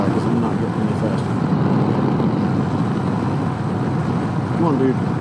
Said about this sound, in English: Wave this fast traffic by because I'm not getting any faster.